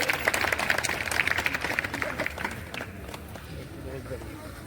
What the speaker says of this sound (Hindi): जोरदार तालियों से इनका स्वागत करिए।